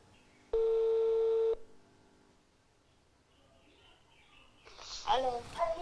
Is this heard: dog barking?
no